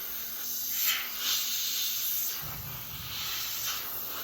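An airbrush sprays paint onto a B-25J scale model, a soft steady hiss held close with faint pulses as the feed is eased back.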